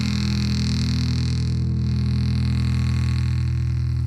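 An electric bass plays through the distortion circuit of a 1970s Peavey F-800G Super Festival Series amp, giving a loud, sustained, buzzy low drone that holds steady throughout with no talk.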